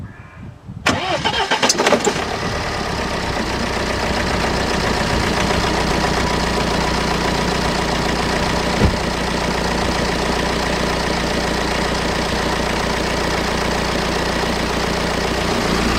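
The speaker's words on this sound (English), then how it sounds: "So it fired up pretty much straight away. There was a slight hesitation, but as you can see, it is now running." BMW car engine cranks briefly, catches with a slight hesitation, then settles into a steady, loud idle that runs on alone for the rest of the time.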